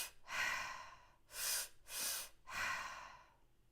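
Deep Wim Hof method breathwork: four slow, strong breaths through the nose and mouth, each a long airy rush with short pauses between. The breathing is close and soft, and no one speaks.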